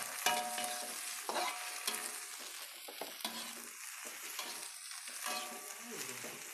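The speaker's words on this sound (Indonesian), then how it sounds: "Saya aduk dulu supaya baunya supaya hilang, bau dari amisnya telur." Beaten egg with leeks fries in a pan while a utensil stirs and scrapes repeatedly over a continuous sizzle, close and steady, with no voices.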